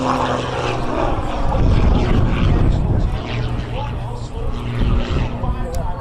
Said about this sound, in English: Turns the smoke back on and rolls and snap rolls that high-speed stall in one wing into the inverted position